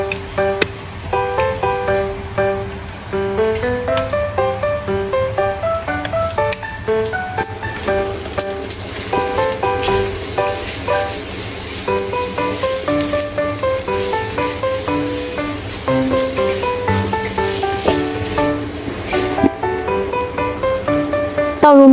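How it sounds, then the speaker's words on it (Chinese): Luncheon meat sizzles as it is stir-fried in a pan for instant noodles, a continuous crackling fry heard under light, plinking background music that runs throughout. "午餐肉也一起炒香。"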